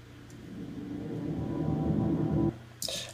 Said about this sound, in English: And then I reversed it, so this is a reversed reverb.